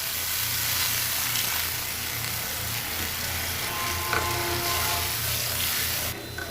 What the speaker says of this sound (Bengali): আমি গরম জল অ্যাড করে দেব।